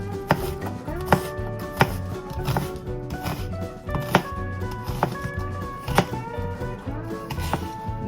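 A knife slices a peeled cucumber into thin, even rounds on a board, producing crisp, sharp cuts at a steady rhythm about once a second, close and clear over soft background music.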